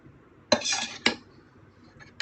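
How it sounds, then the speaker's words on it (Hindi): A metal spoon clinks against a pot and plates while chicken chana pulao is served, three or four sharp, bright taps close by in an otherwise quiet kitchen. "अब मैं डालती हूँ प्लेटों में"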